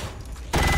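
Gunfire from a weapon in the video game XCOM 2, a sudden loud burst erupting after a quieter lead-in and sustaining to the end.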